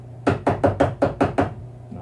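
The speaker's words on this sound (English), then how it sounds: "Knock it on the side of the can." Six sharp, evenly spaced knocks of a paintbrush handle rapped against the side of a paint can while cleaning an oil-painting brush, close and crisp over a faint low hum.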